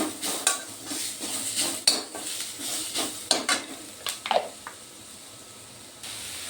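Green chili paste is stirred and fried in a pan, a soft sizzle under repeated spatula scrapes and knocks, close and moderately loud, with no voices.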